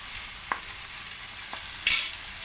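Green chillies dropped into hot oil in a pan for spicy chicken pasta, a faint low sizzle with two light taps, then a short sharp hiss as they hit the oil near the end.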